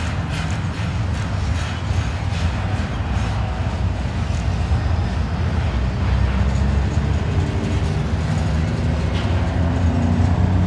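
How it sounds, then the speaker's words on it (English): Continuous low rumble and rhythmic clatter of a long CSX or Norfolk Southern freight train rolling past at a railroad interlocking, steady and close, without pauses. "Makes it hard to count how many cars are on this train."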